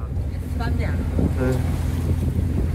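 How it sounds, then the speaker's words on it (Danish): A sailboat heads out of a harbour on the Rhône as steady wind buffets the microphone over low water rumble, with brief faint voice fragments. "Jeg er ved at sejle fra havnen her ved Rhônefloden."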